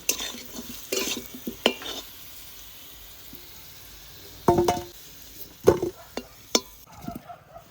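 Potatoes fried with salt and turmeric sizzle softly in a pan while a spatula scrapes and stirs in several close, clattering bursts separated by quieter frying.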